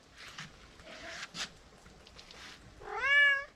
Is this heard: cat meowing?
yes